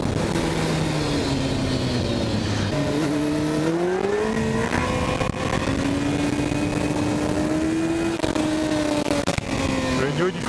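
A Honda motorcycle engine pulls hard, its tone climbing steadily through the gears with a short dip at each shift, loud and close for the whole stretch with heavy wind roar over it.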